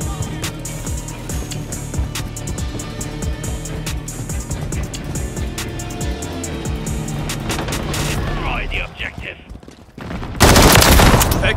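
Rapid automatic rifle fire from an M13B assault rifle in a Call of Duty MW3 Team Deathmatch match rattles in dense bursts, with distant shots and game voice callouts mixed in, then ends in a loud close blast.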